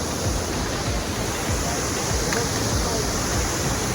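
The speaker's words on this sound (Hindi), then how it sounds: "ये देखिए कितना प्यारा झरना है पीछे" A waterfall near Mussoorie, India roars as a loud, steady, broadband rush that fills the background, with a voice speaking over it.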